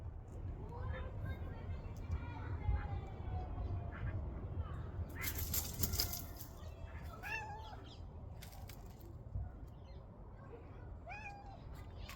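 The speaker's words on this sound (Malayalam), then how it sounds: "ഇനിയുണ്ട് കുറേ പൂച്ചകൾ വരാൻ ഇനി ഇസ്രായേൽ പൂച്ചകൾ എങ്ങനെയുണ്ട്" Several street cats in Israel meow in short, rising calls spread across the stretch. Some calls come close together and others are spaced apart, over a steady, noisy outdoor background.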